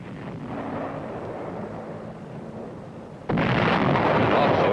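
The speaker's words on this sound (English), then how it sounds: "the artillery threw in white phosphorus shells" US artillery fires white phosphorus shells, heard as a continuous heavy rumble of distant blasts that jumps abruptly into a louder, harsher roar of explosions partway through.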